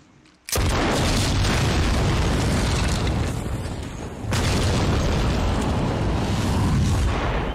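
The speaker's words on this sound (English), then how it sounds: "Now that explosion was all done computer generated." A huge, sustained computer-generated explosion roars in after a brief quiet moment, a thick rumbling blast that dips briefly and then surges again, loud and close.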